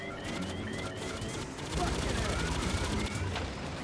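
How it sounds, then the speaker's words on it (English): Turret gunfire in the video game Aliens: Fireteam Elite 2, sustained rapid bursts of automatic fire, fairly loud and continuous, with voices talking over it. "I see 2 live turrets up ahead. Expect some heavy fire."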